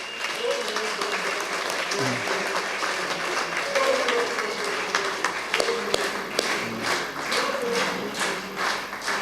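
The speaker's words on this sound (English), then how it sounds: "Give them a round of applause." Sustained round of applause from a seated audience at a live-streamed gathering, steady dense clapping throughout with a voice speaking intermittently over it.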